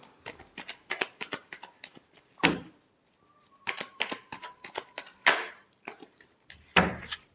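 Tarot cards are shuffled close up in quick riffles and slaps, with sharper clusters and brief pauses between passes and no talk over it.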